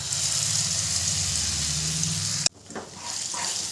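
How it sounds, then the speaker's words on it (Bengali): Ground lentil paste goes into hot oil in a non-stick kadai on a low gas flame. A steady, close sizzle is cut by a sharp knock, followed by softer, uneven bubbling and spitting. "এরপরে সেই বেটে রাখা ডালটা আমি দিয়ে দেবো।"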